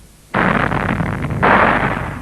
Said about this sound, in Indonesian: Kemudian bagian-bagian yang mengandung biji diledakkan.